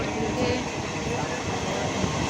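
A train leaving Bidhannagar rumbles on in a continuous, fairly quiet interior drone, steady low throb and hum with no distinct clacks or announcements over its short span.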